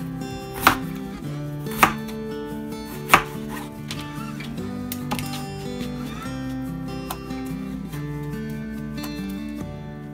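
Ginger chopped on a cutting board for elderberry syrup, a few sharp knife strikes early on and then lighter, quieter cutting over a steady musical background, with no talk.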